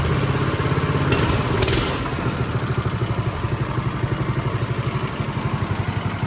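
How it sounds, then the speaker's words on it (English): A small engine with its governor removed runs close and loud, rising briefly with a sharp rev before settling into a fast, even, chugging idle with a steady pulsing beat. "It'll take off way quicker without that governor."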